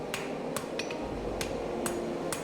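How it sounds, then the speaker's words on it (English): Hammer striking hot steel while forging a knife blade from a broken spear, sharp metallic blows at an irregular rhythm over steady forge noise. "The reverse tip needs to be forged back so that the cutting edge curves into the back of the knife."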